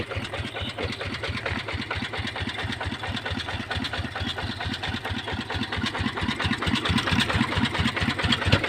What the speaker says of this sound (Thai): เพราะเสียงนี่จะเหมือนท่อเดิมเลย